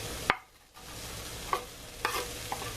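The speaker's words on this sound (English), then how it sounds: "We're going to mix everything up." A spoon or spatula stirs corned beef hash with potato and onions in a frying pan, with a few scattered scrapes and knocks over a soft, steady sizzle.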